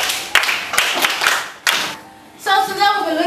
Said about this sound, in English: Please clap her.